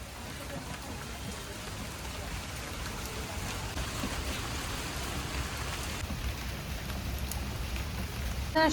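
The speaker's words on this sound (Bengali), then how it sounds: "দেখ সেই বৃষ্টি আর থামলো না, ঝমঝমিয়ে বৃষ্টি হচ্ছে সারাক্ষণ।" Heavy monsoon rain pours down without pause, a dense, even hiss of drops striking surfaces close by, steady and loud throughout with no voices.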